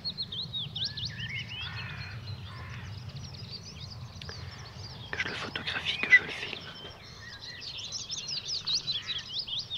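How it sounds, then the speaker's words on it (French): Small birds chirp and twitter outdoors among flowering trees, light scattered calls recurring through the scene over a low rumble, while a person whispers quietly nearby. "par moments, il y a des oiseaux qui passaient"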